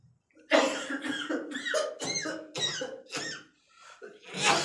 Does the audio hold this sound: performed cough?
yes